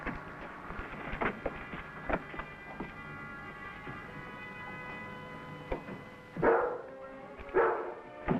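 A dog named Rebel barks over a steady hum, with scattered knocks and movement. Two louder, sharper barks land near the end.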